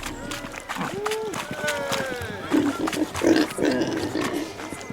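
Pig grunts and squeals from a chased pig in The Witcher 3: Hearts of Stone, heard as short repeated calls mixed with footsteps and background game sounds and music.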